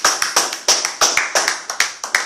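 A church congregation claps steadily in an even, brisk rhythm to acclaim Jesus, the handclaps loud and close, with singing and voices carrying underneath.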